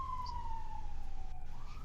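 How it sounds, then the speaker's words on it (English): A single siren from an emergency vehicle outside near a hospital, a faint, distant, slowly falling wail over low background rumble, with no talk. "I apologize if you guys are hearing those sirens, by the way."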